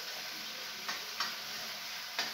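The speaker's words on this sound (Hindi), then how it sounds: "मैं इसमें इसको भी डाल दूंगी, लहसुन को भी, और इसको अच्छे से भून लें" Garlic frying in hot mustard oil in a pan over a low flame, giving a soft, steady sizzle with a few faint utensil ticks, quiet and close with no talking.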